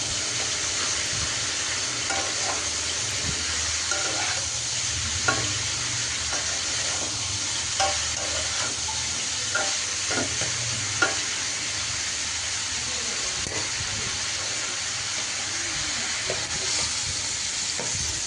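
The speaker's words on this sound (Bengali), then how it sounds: "তো ভাজিটা এখন বারবার নেড়ে চেড়ে দিব।" A vegetable fry with sliced green chilies and salt sizzles steadily in a pan while a spatula stirs it with repeated scraping clicks, and fish fries nearby.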